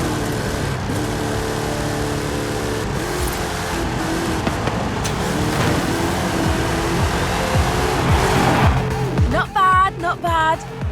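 Steady engine roar of a race car in Forza Horizon 5, speeding through a Hot Wheels upside-down loop track, with voices talking over the engine near the end.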